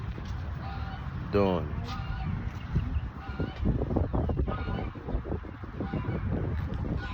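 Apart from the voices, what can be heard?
ducks honking outdoors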